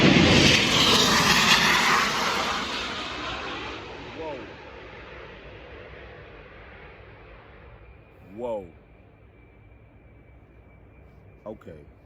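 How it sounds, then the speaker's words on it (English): A low-flying airplane passing overhead, loud broadband engine roar at first that fades steadily into the distance while voices talk faintly underneath. "I never heard a plane fly that low before"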